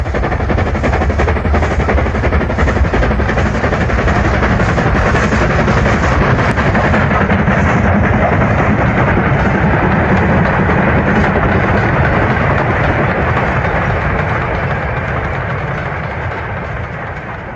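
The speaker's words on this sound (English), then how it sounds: "Fairburn 264-42689 heads a short parcels train for Manchester." Fairburn 2-6-4 tank steam locomotive 42689 hauls a short parcels train through the Yorkshire Pennines, a loud continuous roar of engine and rolling wagons that holds steady and fades slightly toward the end.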